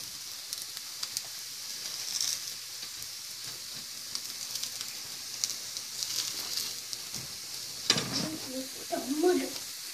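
Breaded potato cutlets sizzle gently in a pan with bread crumbs browning, a soft continuous crackle broken by occasional pops and a brief stir or flip near the end.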